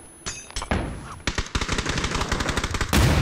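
Close automatic gunfire in PUBG, one short shot, then a longer rapid burst of evenly spaced cracks, ending in a loud final blast.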